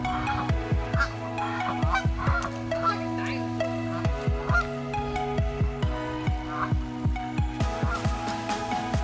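Geese honk loudly and repeatedly at a park duck pond, a dense, overlapping chorus of nasal calls close by, continuing throughout without talk.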